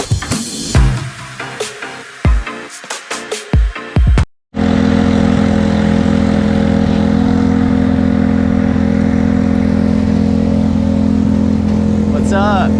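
LO206 racing go-kart engines warm up on a track, first heard behind a nearby person talking, then as a loud, steady, buzzing engine drone that carries on alone.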